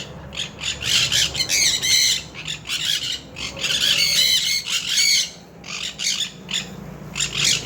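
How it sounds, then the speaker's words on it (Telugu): Birds squawk loudly and insistently at a nest in a plant nursery, in harsh, repeated bursts, close by, with brief pauses between clusters of calls and some chirping. "చూస్తున్నారు కదా బర్డ్స్ అయితే ఎంత చక్కగా ఉన్నాయో. వాటి సౌండ్ వింటే భలే హాయిగా ఉందండి నాకు"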